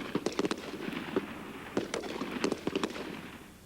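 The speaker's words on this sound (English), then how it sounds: "it's backed up by the burst of an M16 rifle" An M16 rifle fires in quick bursts of sharp cracks, clustered and repeated at moderate distance, with no talk over them.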